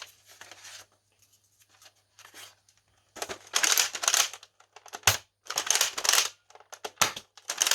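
X Shot Lock Blaster toy firing darts in irregular bursts of sharp clacks and mechanical rattles, some spaced apart and others in quick clusters, with quieter handling noises between and no talking.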